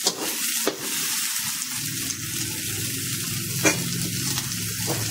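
Fried rice with mixed vegetables, corned beef and tofu is stirred in a hot pan, with a steady close sizzle and scraping stir strokes, plus a couple of louder knocks, and no talking.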